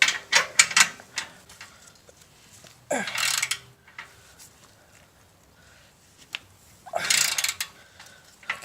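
Metallic ratcheting bursts from tightening the slip-on exhaust clamp on a Harley-Davidson Roadster, several short clicky runs near the start, a sharp burst around three seconds and another near seven, with quiet handling noises between.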